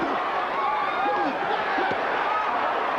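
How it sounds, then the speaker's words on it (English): A boxing crowd roars steadily through a Mike Tyson versus Donovan Ruddock fight, a loud sustained mass of cheering with rising shouts and whistles and a commentator talking over it. "Crowd erupting, thinking that Ruddock is connecting."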